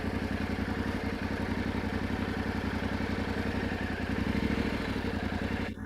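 A Yamaha Tenere 700 motorcycle creeps slowly through a riding drill, its engine holding a steady, close, low throbbing idle-like rumble throughout with no voices.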